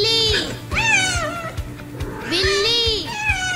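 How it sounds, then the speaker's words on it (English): A cat meows twice in long, drawn-out, wavering calls, close and clear over a soft rhythmic beat. "Cat. Cat."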